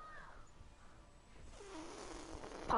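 A cat purring softly and close, a low continuous rumble that grows slightly louder before a brief sharp burst at the end.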